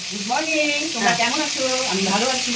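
Hilsa fish fry in a pan in a home kitchen, a constant close sizzle running under a person talking throughout.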